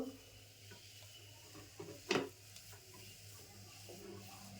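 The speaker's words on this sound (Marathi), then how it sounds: "तर रवा व्यवस्थित शिजवून घेते. हे 2 ते 3 मिनटं मी असं ढवळून घेतलं आहे." A spoon stirs semolina cooking in a pan. Soft, faint scraping strokes come with a gentle sizzle, and one louder scrape stands out midway against a quiet background hum.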